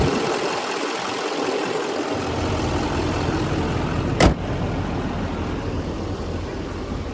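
A 2016 GMC Sierra 3500HD Denali dually's 6.6 liter Duramax turbo diesel V8 idles steadily and close up, a continuous low rumble that holds throughout, broken by one brief sharp click partway through.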